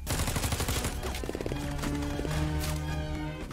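Gunfire in an action film scene as a fugitive runs through a cornfield, sharp shots and bursts crowding the whole clip amid dense score and effects, loud and close throughout.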